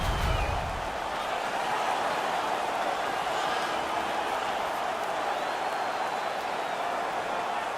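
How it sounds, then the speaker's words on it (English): Home crowd at an NHL ice hockey game between the Toronto Maple Leafs and Chicago Blackhawks roaring steadily after a fight, a dense, continuous wash of arena noise with no pauses. "The home crowd is ecstatic."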